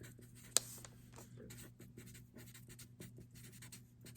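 A pencil writes on paper, with faint, soft scratchy strokes in quick irregular bursts over a low steady hum; one sharp tap stands out near the start.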